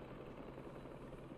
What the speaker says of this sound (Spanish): aspas de helicóptero.